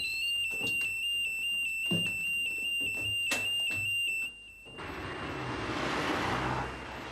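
A bank's electronic alarm rings with steady high-pitched tones over several seconds, punctuated by sharp clicks and bangs, before giving way to a broad rushing noise like passing traffic.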